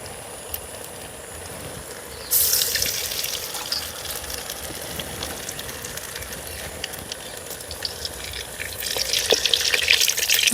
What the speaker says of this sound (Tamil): கொஞ்சம் பொரியட்டும் பாருங்க.